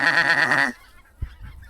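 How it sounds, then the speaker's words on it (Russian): A northern migratory goose passing high overhead during a December goose hunt in Germany gives a short burst of loud, nasal honking calls, followed by quiet, faint rustling. "Спустя некоторое время над присадой, не реагируя на чучело, прошел транзитный пролет северного миграционного гуся."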